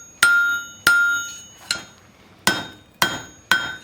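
A hammer strikes hot steel on an anvil six times in an uneven rhythm while drawing down the tip of a tong's gripping jaw, each blow a sharp ringing clang that fades quickly.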